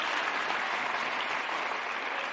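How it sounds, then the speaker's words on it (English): Audience applause at an ANC gathering, a dense continuous round of clapping from a crowd, loud and even from start to finish with no speech over it. "I want us to give these comrades a good round of applause"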